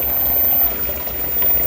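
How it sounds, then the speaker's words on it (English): Water runs steadily through a garden pond setup, heard as a close, continuous trickling rush with no voices. "see the water flow, probably a couple of inches from the top"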